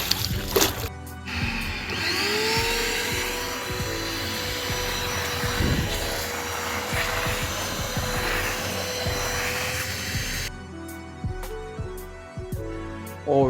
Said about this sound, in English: Then we had to brush and vacuum up all this mud and algae.